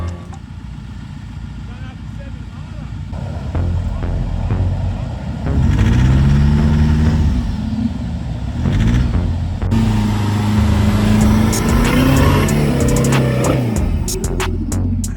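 A car without four-wheel drive climbs a slope in the Outback, its engine droning and rising and falling in pitch as it revs hard, with someone talking over the sound.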